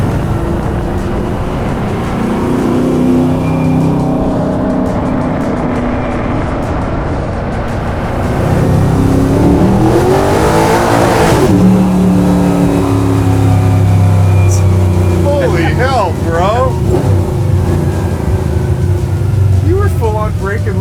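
A garage-built 355 ci Chevy Chevelle sleeper pulls hard, a loud engine roar that climbs and drops through clutch and no-lift gear shifts, with people talking over it inside the car.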